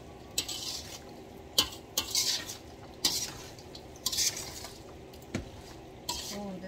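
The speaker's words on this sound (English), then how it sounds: "I'll give this a good stir." A utensil stirs a Guyanese lime sour mixture in a pot, with repeated sharp clinks and scrapes against the sides in an uneven rhythm, close and fairly quiet over a low background hum.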